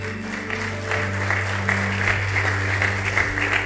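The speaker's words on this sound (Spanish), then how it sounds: "Dele un fuerte aplauso al Señor." Church congregation clapping for the Lord during a worship service, sustained applause over a low sustained keyboard or organ tone, fairly loud and continuous throughout.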